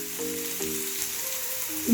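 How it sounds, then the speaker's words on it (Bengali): Ingredients for shrimp fried rice sizzle steadily in a hot pan, a continuous close frying hiss with faint tonal hum underneath. "তো আমাদের এটা সব ভাজিভুজি হয়ে যাচ্ছে।"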